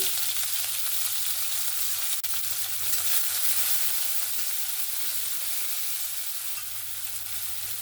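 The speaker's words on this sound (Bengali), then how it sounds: "এবার কুচনো পেঁয়াজ দিয়ে দেব।" Chopped onions sizzle in hot mustard oil over whole cumin and a bay leaf, a steady close hiss with a faint low hum underneath and no voices.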